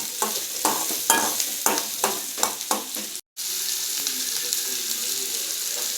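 Onions fry in a pan, stirred with sharp rhythmic scraping strokes over a steady sizzle; after a brief dropout the sizzling continues alone as a constant, softer hiss.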